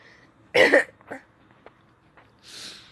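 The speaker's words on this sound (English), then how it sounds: "I keep coughing" A single sharp cough rings out close by, followed by a smaller throaty rasp and a faint breathy sound.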